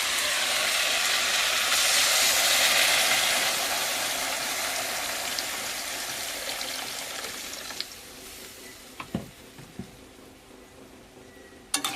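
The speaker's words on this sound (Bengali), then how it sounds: "এবারে জল দিয়ে দেবো।" Water is poured into curry frying in a pan, raising a loud, steady steaming hiss that slowly fades over several seconds before a few sharp clinks near the end.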